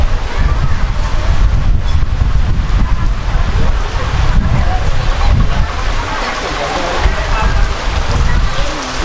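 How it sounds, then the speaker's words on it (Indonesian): Strong wind blows through heavy night rain at an outdoor Sandiwara Lingga Buana theatre performance, loud gusty buffeting of the microphone over a steady rain roar, with a voice faintly present underneath. "Angin santer guys."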